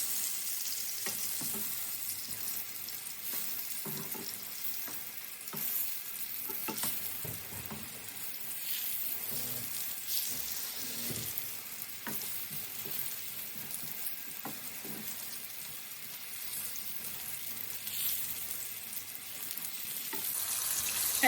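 Aubergine slices fry in a pan with a steady, dense sizzle and crackle that runs throughout at moderate level, broken by occasional soft clinks and stirring scrapes, with no voices.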